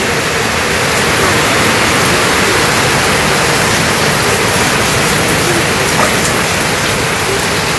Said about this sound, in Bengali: তো সকাল সকাল ভালোই বৃষ্টি নেমে গেছে